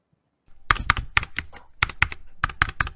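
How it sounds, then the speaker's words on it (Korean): Typewriter sound effect in PowerDirector: after a short silence, a rapid run of crisp, clacking keystrokes in uneven bursts, close and fairly loud, with no voices. "이 타자기 소리가 어디서 끝냈으면 좋겠다"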